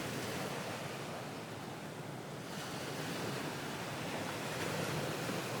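Ocean waves wash continuously in a broad, steady surf roar, with faint wind noise and no voices.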